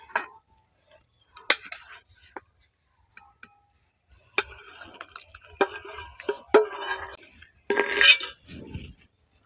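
A spoon stirs nolen gur into milk and rice batter in a metal pot, making close, intermittent clinks and scrapes in uneven bursts with short quiet gaps between them.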